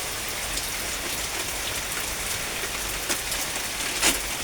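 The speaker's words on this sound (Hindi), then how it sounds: "तो आज हम जाने के लिए थे मगर होने लगी है बारिश।" Steady rain falling and pattering on surfaces, a continuous moderate hiss with a few louder drop impacts near the end, no voices.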